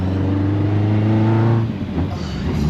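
A naturally aspirated Toyota AE86 Sprinter Trueno with individual throttle bodies revs loud and close, a steady harmonic drone that drops off and settles into a rougher idle.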